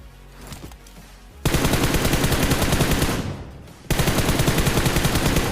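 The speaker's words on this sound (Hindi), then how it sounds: "मेरे ऊपर थोड़ी सी सप्रेस्ड फायरिंग हुई" Suppressed gunfire in a shooter video game arrives as two long, rapid automatic bursts, dense and loud, with a short gap between them and no talking.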